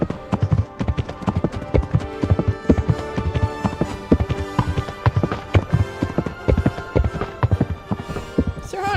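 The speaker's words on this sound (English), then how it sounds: "The horse sounds very defined." A horse gallops in the medieval video game Kingdom Come: Deliverance, its hooves drumming in a fast, steady rhythm, close and loud, with game speech and ambient sounds mixed underneath.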